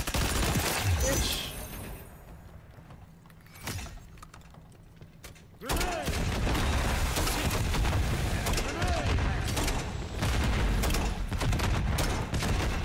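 Video game firefight with rapid gunfire bursts and heavy grenade-like blasts, loud and dense at the start, dropping to a quieter lull, then resuming as sustained close shooting; a voice talks over parts of it.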